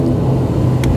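Tarom passenger airliner engines starting the takeoff roll, a steady loud low rumble heard from inside the cabin, continuous for the whole second.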